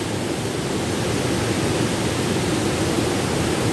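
Floodwater rushing through the swollen Ruidera lagoons in Ossa de Montiel after heavy rain, a dense, steady, loud roar of churning water with no pauses and no voices.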